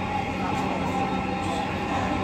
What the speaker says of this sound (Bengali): ট্রেন চলছে